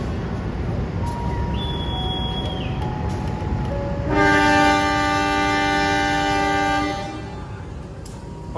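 The KA Banyubiru economy train departs Gundih station on the Solo–Semarang line with a loud, sustained multi-tone horn blast of about three seconds. Softer single tones and a steady background rumble come before it, and the rumble carries on afterward.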